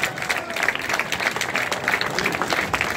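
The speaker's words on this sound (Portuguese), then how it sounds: "Dá uma salva de palmas perto da gente." Festival audience at an annual village celebration in Pias, Alentejo, claps for Zé Maria, lively uneven applause close by with occasional shouts and cheers throughout.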